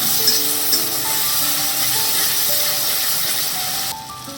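A spice paste with salt and turmeric sizzles and fries in a pan while being stirred, a steady, loud hiss throughout with a few soft scraping touches, close up and without talk.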